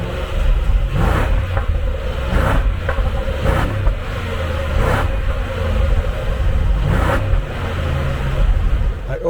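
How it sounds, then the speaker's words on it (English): Land Rover LR4 with its V8 on the stock exhaust gives a low, steady rumble with a few soft rises in revs, heard from close by without any talk. "let's just do that and see what kind of V8 sound we're gonna get"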